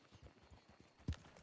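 Wild horses' hooves clip-clopping in a video game, a quick patter of faint hoofbeats ending in one sharper, louder thud.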